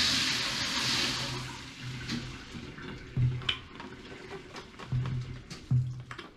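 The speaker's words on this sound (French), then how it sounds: "je vous montre comment on rince. On doit bien rincer." Water pours over quinoa in a sieve during rinsing, a close splashing rush at the start that eases into intermittent trickles, drips and soft knocks of the strainer.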